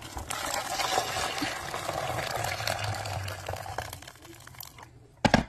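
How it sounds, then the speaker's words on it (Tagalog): Water boils in a pot for pasta, with a soft continuous bubbling hiss and faint crackles and a few louder clinks near the end. "Ayan, nagpakulo muna ako ng tubig."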